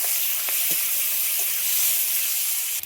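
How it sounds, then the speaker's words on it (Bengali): Onion frying in hot oil in a pan with dried chilli and bay leaf, a steady close hiss and sizzle with a few faint clinks and a brief knock at the end. "এবার আমি পেঁয়াজটা দিয়ে দিই, পেঁয়াজটা দিয়ে ভালোভাবে লাল লাল করে ভেজে নেবো।"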